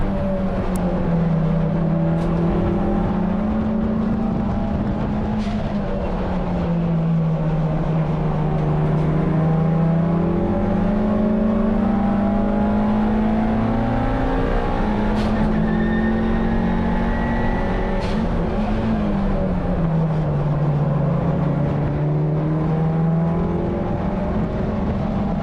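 A Mitsubishi Evo 9 race car in wheel-to-wheel competition on a track, heard from on board: a loud, continuous engine drone that rises and falls in pitch through gear changes and corners, with wind and road roar throughout.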